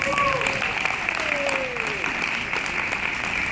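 A crowd at a welcome event with a lion dance claps for a recognized guest, the applause a steady wash under a voice speaking over it.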